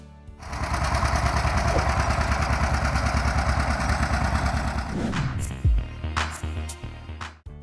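A 1951 British-built Fordson Major tractor engine running loud and close in a steady throbbing chug for about five seconds, then cutting off into scattered clunks and knocks.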